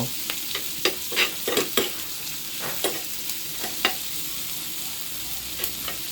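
Squid stir-fried in a hot pan, with a steady sizzle underneath and repeated scraping, clattering stirs of the spatula at an uneven rhythm, close and fairly loud.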